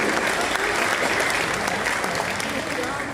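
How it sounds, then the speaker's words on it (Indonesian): Steady, dense applause from a crowd, loud and continuous for the whole stretch, with no pauses. "Boleh beri tepuk tangan yang meriah untuk Bapak Hashim."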